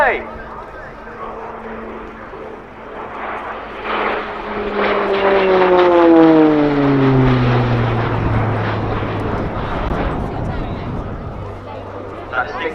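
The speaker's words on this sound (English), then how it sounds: "noise you'll hear throughout the display is the operated Garrett TPE turboprop engine" A Garrett TPE turboprop aircraft engine roars loudly as it passes close by at the RAF Cosford Airshow 2019, its whining pitch sweeping downward, while a voice talks over the noise.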